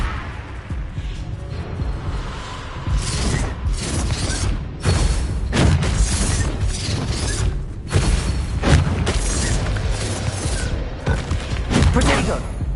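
Confringo blasting spells in the Hogwarts Legacy video game, with repeated booming explosions and rumbling impacts during busy combat, loud and dense, while a voice talks over the action.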